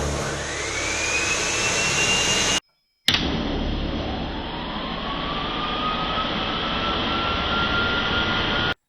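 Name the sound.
miter saw and two 5000 BTU window air conditioners starting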